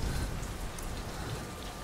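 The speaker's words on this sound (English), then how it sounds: "It's raining." Steady rain in Metal Gear Solid V patters over a broad hiss, with a faint low rumble beneath, continuous and moderately quiet.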